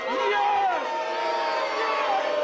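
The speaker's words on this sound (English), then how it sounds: "Listen to this crowd, they do not like it." A crowd at a live wrestling event in Yarmouth reacts with a sustained, fairly distant roar of voices and whistles, a dense wash of noise throughout with a commentator's voice faintly over it.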